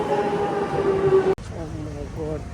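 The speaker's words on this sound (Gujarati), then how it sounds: "ટ્રેન આવી ગઈ છે" A London metro train rumbles in with a sustained tonal whine that stops abruptly, followed by a low hum and a few faint voices.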